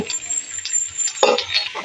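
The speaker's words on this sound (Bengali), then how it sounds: "বেগুনটা দিয়ে আমি খুব সুন্দর করে নেড়ে নেব" Eggplant and shrimp are stirred in a hot pan, giving a soft continuous sizzle with scraping strokes and a few light clinks of the spoon against the pan.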